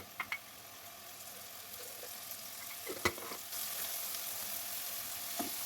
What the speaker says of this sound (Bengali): কাঁচামরিচ পেঁয়াজ ভালো মতো লাল লাল করে নিলেই